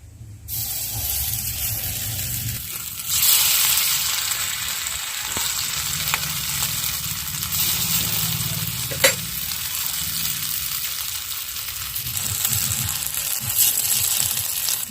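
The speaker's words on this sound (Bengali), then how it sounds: "এদিকে কড়া গরম হয়ে গেছে, কড়ার মধ্যে দিয়ে দেব বেটে রাখা পটল পাতাটা" Ground pointed gourd leaf paste sizzles and fries in a hot wok with oil and bay leaf, a steady close hiss with stirring scrapes throughout and a brief louder spatter midway.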